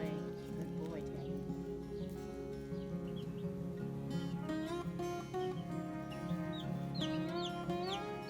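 Meat chickens clucking in a backyard flock, a steady chorus of overlapping clucks and rising calls close by, with a person's voice talking through part of it.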